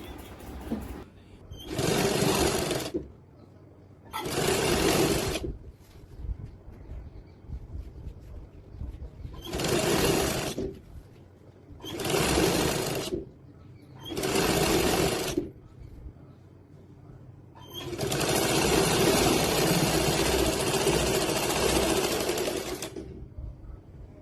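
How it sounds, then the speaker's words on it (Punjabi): A sewing machine top-stitches the hem of a salwar in repeated loud bursts of steady whirring with short pauses between them, ending in one longer continuous run. "ਆਪਾਂ ਸਿੱਧੇ ਪਾਸੇ ਪਲਟ ਲਾਂਗੇ ਤੇ ਇੱਕ ਟੌਪ ਸਟਿਚ ਲਗਾਵਾਂਗੇ"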